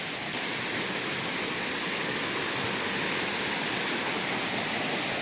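A forest stream running high after rain, a steady, dense rush of flowing water that fills the whole stretch evenly and close by, with no voices heard.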